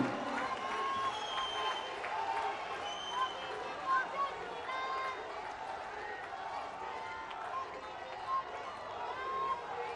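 A large rally crowd applauds and cheers to welcome Prime Minister Narendra Modi, a sustained broad roar of clapping mixed with crowd noise, steady and continuous over the whole stretch.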